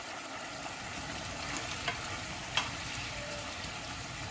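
Mapo tofu sauce with ginger, garlic, pepper and peppercorn bubbles and sizzles in a pan, a dense even hiss broken by a couple of brief clicks from stirring, with no voices.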